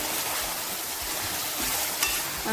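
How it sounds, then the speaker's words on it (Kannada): Green chilli paste frying in oil, a dense, even close-up sizzle with a faint stir and one small clink near the end, no voices. "ಹಸಿಮೆಣಸಿನ್ಕಾಯಿ ನೋಡಿ ಎಲ್ಲ ಚೆನ್ನಾಗಿ ಎಣ್ಣೆಯಲ್ಲಿ ಫ್ರೈ ಆಗಬೇಕು"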